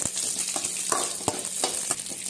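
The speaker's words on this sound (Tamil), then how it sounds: "இப்போ ஒரு கடாய் வச்சுக்கோங்க, கொஞ்சம் அதில் கொஞ்சம் எண்ணெய் ஊற்றிக்கோங்க. அதில் மிளகாய் ஆட் பண்ணிக்கோங்க," Chillies sizzle in hot oil in a kadai as the base for a crab fry, a steady crackling hiss broken by sharp, repeated scrapes and clinks of the stirring spoon against the pan.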